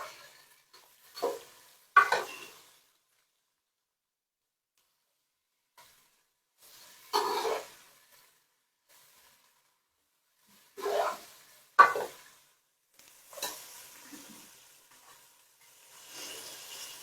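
Cabbage being added to onions already fried in sambar powder, stirred in a pan: short bursts of scraping and sizzling at intervals, with quiet gaps between.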